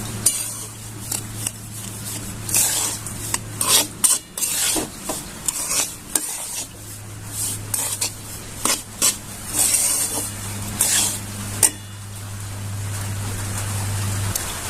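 A spoon repeatedly scrapes and rubs through a sabudana and bhagar ladoo mixture with ghee in a pan, irregular close strokes over a steady low hum, with no talking.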